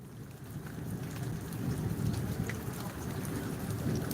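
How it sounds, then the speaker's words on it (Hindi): Steady rain falling and pattering on surfaces outdoors, a dense, even hiss that swells slightly, with no voices. "बारिश हो रही है"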